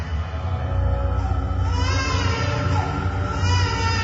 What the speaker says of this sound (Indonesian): aku mendengar suara tangisan bayi